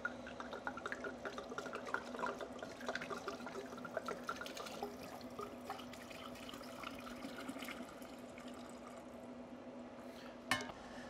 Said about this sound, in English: And then I'm going to take the brine mixture, I'm going to pour it over the turkey.